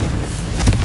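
A Confringo blasting spell explodes in Hogwarts Legacy, one short, loud, booming burst with a low thump near the end and no voices.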